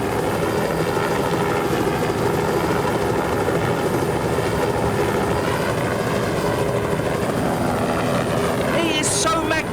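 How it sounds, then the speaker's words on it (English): Loud, continuous rotor chop and turbine whine from a helicopter flying low over wilderness to chase off a large predator, holding steady close by, with a brief high-pitched sound near the end. "We're going in low, the helicopter should scare him away."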